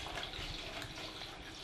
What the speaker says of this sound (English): I'll just rinse it in the sink with some hot water and soap